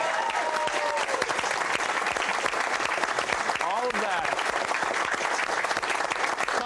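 Steady, dense audience applause fills the whole stretch at a live golf-themed broadcast event, loud and continuous with some crowd murmur mixed in.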